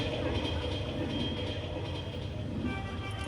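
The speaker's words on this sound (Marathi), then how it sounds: "प्लॅटफॉर्म क्रमांक 3 वर आलेली लोकल बोरिवलीला जाणारी ही लोकल आहे" A local train arriving at a station platform, a continuous loud rumble of railcars with some high squeal near the end, a public address announcement voice heard over it.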